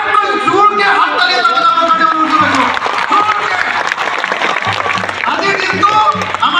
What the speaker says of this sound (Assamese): সকলো শিৱসাগৰবাসী ৰাইজৰ পৰা আটাইতকৈ জোৰকৈ হাত তালি